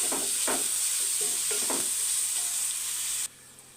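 Chopped tomatoes cook in hot oil for a Telugu curry, giving a steady, loud sizzle with a few scraping stirs early on. The sizzle drops away abruptly near the end.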